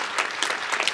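A lecture audience applauds, a brief burst of clapping with no break.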